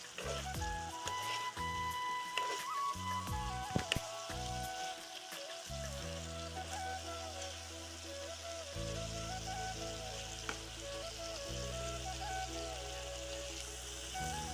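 Fried fish dropped into a bubbling tomato curry and stirred around the pan, giving a moderate continuous simmering sizzle broken by a few soft knocks and scrapes. No one speaks.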